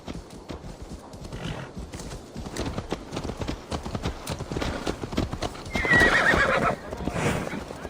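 Horse hooves clip-clop steadily at a walking pace in the game Assassin's Creed Valhalla, fairly close and loud, with a clear neigh rising near the end.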